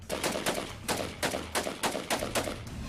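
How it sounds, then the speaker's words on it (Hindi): Rapid bursts of gunfire as ISIS fighters shoot at Syrian soldiers near a building, a rhythmic string of about a dozen loud, close shots in quick succession with no talk over them. "लेकिन इस दौरान वो सीरियाई जवानों पर गोलियां बरसाते रहते हैं"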